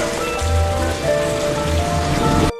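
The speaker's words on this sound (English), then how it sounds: "Forced to get off in the middle of the rain, his condition only grew worse." Steady rain falls in an alley, a loud, dense wash of drops on hard surfaces with low rumbling swells that suggest distant thunder, and no voices.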